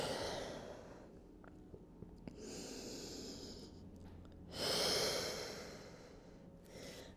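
Slow deep breathing held in a Pilates child's pose, long airy inhales and exhales rising and falling, with one fuller breath near the end, close and soft and without talk.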